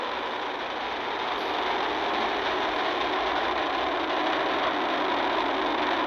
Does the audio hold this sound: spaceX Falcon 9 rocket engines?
yes